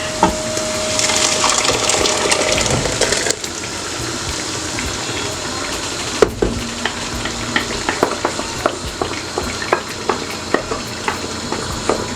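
Blended carrot and peppers poured into a hot pot for carrot stew send up a loud sizzle and bubbling, which quiets after a few seconds into scattered crackles and stirring clatter.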